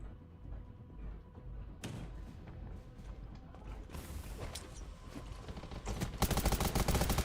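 Gunfire from an SVD sniper rifle in the survival shooter Undawn, heard as sharp cracks among busy game mechanics and clatter, with a dense burst of rapid shots toward the end.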